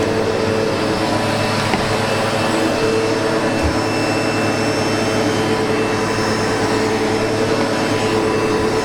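A SEBO Automatic X7 Boost ePower vacuum cleaner roars loudly and steadily up close while cleaning stairs. Its motor holds a constant whine with only a brief dip partway through, and no voices are heard.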